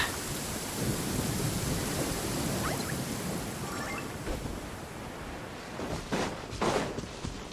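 Heavy rain hisses steadily in Genshin Impact, with deep thunder rumbling throughout and a couple of louder cracks toward the end.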